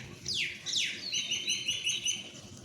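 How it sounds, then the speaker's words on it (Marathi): Birds chirp close by: two quick descending whistles followed by a run of bright repeated tweets. "पक्ष्यांचा आवाज एवढा मस्त येते पा"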